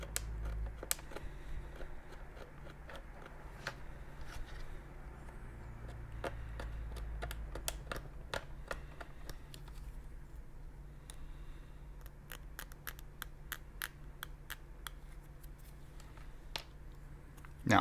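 Tape is cut and trimmed off an old Husqvarna sewing machine, heard as many small, sharp snips and clicks scattered irregularly over a quiet, faint background hum.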